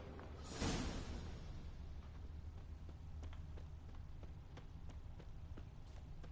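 Horse hooves clip-clopping in The Witcher 3 video game, faint, evenly spaced hoof taps over a steady low rumble, following a brief whoosh at the start, with no talk.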